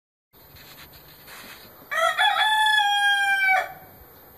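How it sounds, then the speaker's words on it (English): A rooster crows once nearby, a loud drawn-out cock-a-doodle-doo rising from quieter clucking and ambient noise before fading out. "Rooster got out of his cage again."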